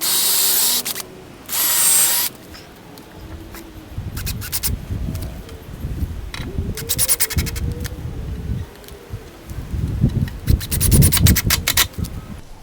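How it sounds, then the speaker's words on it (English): A power drill drives screws into a wooden garden bed board, with bursts of loud, close grinding and rubbing between short pauses. "put 2 to 3 pilot holes into your board here to keep it from splitting, and then go ahead and put your screws in there"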